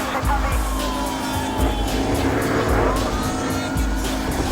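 Car chase in the Battlefield Hardline video game, with revving engines and repeated tire squeals sliding over a steady, loud road rumble.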